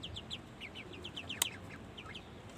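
Ducks and chickens squabble on a rooftop, with repeated short clucks and squawks in quick bursts and one sharp squeal in the middle, moderately close over a steady background hiss.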